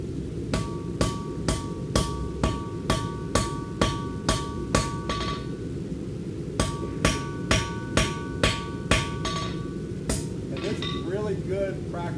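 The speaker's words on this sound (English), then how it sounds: "Really good practice for hammer control." A metal hammer strikes a center punch in a steady run of sharp, ringing blows, about a dozen evenly spaced hits, a short pause, then another series, with faint talking beneath.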